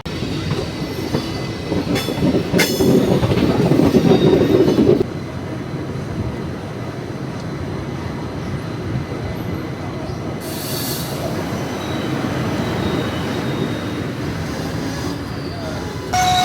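The Nagercoil Express, an 11-coach passenger train running from Bangalore to Nagercoil, rolls along with a loud, steady rumble of wheels on rails and rattling coaches, with brief squeals and a few sharper clanks, and no talk.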